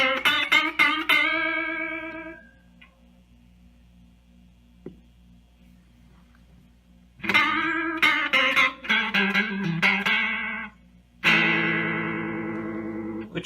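Electric guitar through an Aural Condenser analog chorus pedal with the depth turned up for a warbling, Leslie-like swirl. Strummed chords and picked notes ring out in bursts, with a quieter sustained gap in the middle.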